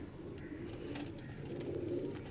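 Pigeon being handled, giving soft low cooing over a faint steady background, quiet and close.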